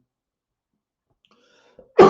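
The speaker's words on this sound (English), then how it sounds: "Got a little bit of cough here." A single abrupt cough bursts out at the very end after near silence, preceded by a faint throat sound.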